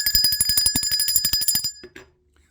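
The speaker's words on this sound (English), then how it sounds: "Let's ring the bell for that." A bicycle bell rings rapidly in a continuous trill for under two seconds, bright and close, then stops.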